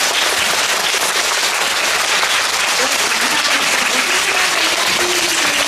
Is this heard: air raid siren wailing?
no